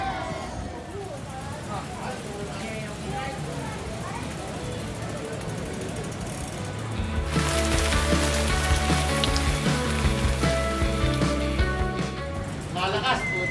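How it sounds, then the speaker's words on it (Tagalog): Heavy rain pours down during a motorcycle ride, a steady broadband hiss that swells louder about halfway through, with a low engine hum and voices talking underneath. "Malakas. Yung ulan."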